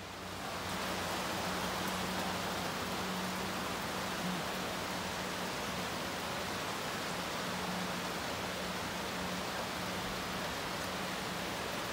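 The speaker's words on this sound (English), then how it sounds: "right now I would be stuck in torrential rain. It's just coming down in buckets." Torrential rain pours down steadily at a hiking hostel on the Appalachian Trail in Tennessee, a dense, unbroken hiss with no talk over it.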